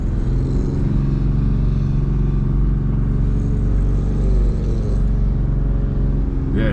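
An 80 Series Toyota Landcruiser in second gear labouring off-road, a loud, steady low engine drone that keeps up its strain throughout.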